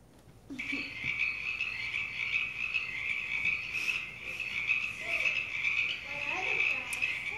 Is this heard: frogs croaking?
yes